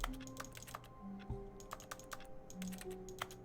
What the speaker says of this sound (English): Why does all my clicking sound like on a keyboard?